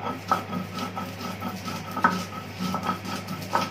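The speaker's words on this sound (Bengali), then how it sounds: "এখন আমি আগে শুটকিটা বেটে নিব" Dried bashpata fish being ground into a paste, with repeated scraping and rubbing strokes in an uneven rhythm, close and moderately loud, over steady low background hum.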